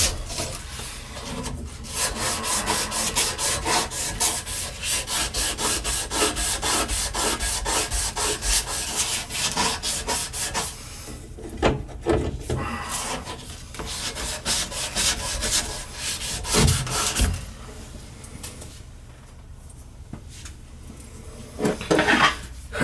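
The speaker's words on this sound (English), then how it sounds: "it's always good to go in there and ream that. Make sure you get all the shavings out." A reaming tool works the inside of a grinder-cut pipe for a tub shower valve, giving a fast rhythmic rasping scrape up close for about ten seconds, followed by slower, irregular scraping and clinks.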